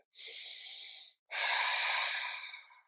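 Two close, audible breaths during a hip-raising floor exercise: a steady airy intake, a short pause, then a longer, fuller exhale that fades out, with no talking.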